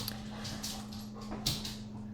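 Dogs whimper and yip faintly indoors in a home in Kansas City. The short, soft cries sit over a steady low electrical hum.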